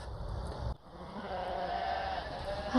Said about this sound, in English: Hearing the sheep calling